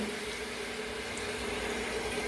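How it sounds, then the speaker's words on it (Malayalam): Water poured steadily into a pot of Kerala-style beef curry sautéed in coconut oil, a close, continuous rushing fill lasting a couple of seconds with no talking. "കുറച്ച് വെള്ളം ഒഴിക്കുവാണ്"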